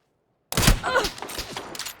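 Video game gunfire bursts in suddenly after half a second of silence, a sharp opening shot followed by a ragged run of quieter shots that trail off.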